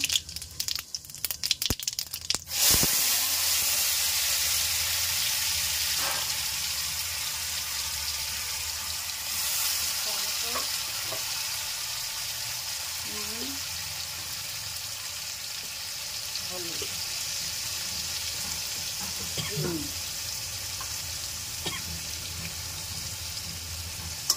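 Spices such as white cumin fry in a pan while a coconut and taro-stolon dish is cooked. A brief clatter opens, then a steady, close hiss of sizzling oil runs throughout, with faint occasional knocks and voice-like sounds.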